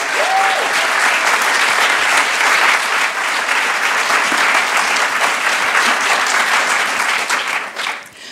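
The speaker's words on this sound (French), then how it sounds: "Vous pouvez les applaudir." An audience applauds the prize-winning authors at a poetry house ceremony in Paris. The clapping is loud, dense and sustained and tapers off briefly at the end.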